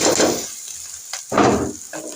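Boiled, salted Maggi noodles dropped into a pan of frying egg and onion, giving loud close bursts of sizzling in two or three surges separated by brief quieter gaps.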